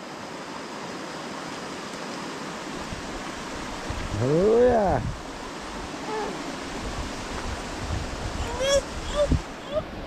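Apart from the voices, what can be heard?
strong rushing water current after heavy rain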